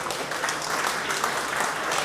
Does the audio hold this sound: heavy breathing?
no